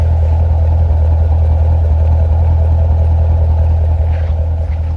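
A 2017 Chevrolet Corvette Stingray 1LT with the NPP performance exhaust rumbles at idle from the rear, a steady deep low burble that stays loud and even with no talk over it.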